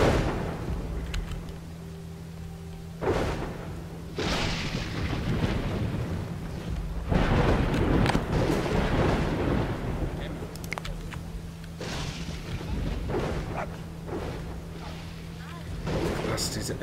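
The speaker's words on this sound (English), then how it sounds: "we've got another storm on us." A thunderstorm rolls over a settlement in the survival game Dawn of Man, with repeated heavy rumbling thunder claps swelling and fading over a constant background of rain and wind.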